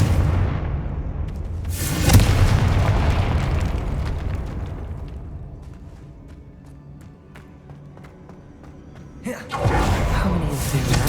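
Fiery Confringo spell blasts in Hogwarts Legacy erupt in loud booming bursts, one at the start, another around two seconds, then a long fading rumble before a fresh explosion near the end.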